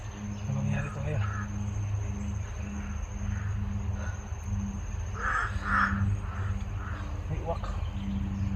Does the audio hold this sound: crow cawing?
yes